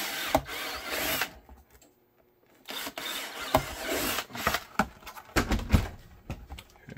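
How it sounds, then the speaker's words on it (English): A power drill bores holes in a holster mold for a Smith & Wesson 10mm Performance Center holster, coming in several whirring, grinding bursts split by short pauses, close and fairly loud with no talk. "Be careful, don't drill through the whole thing."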